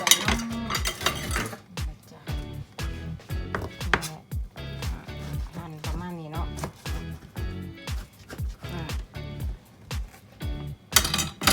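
Eggplant and vegetables are chopped for a Thai eggplant salad in a kitchen, with rapid, regular knife strikes on a board plus occasional clinks of utensils and dishes, loud and close.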